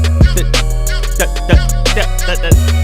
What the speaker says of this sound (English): that's the ghost snare.